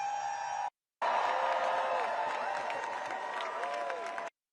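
A huge protest crowd in Washington DC cheers, claps and whoops in a loud, sustained roar, cutting out briefly near the start and then continuing without a break.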